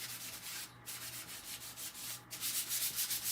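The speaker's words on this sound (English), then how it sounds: "So what you're going to do is just sand it, and that's going to help smooth it out really," Steady rubbing strokes of a brown paper bag used as sandpaper to smooth a craft surface, a soft, close, rhythmic scratchy hiss with brief pauses between passes.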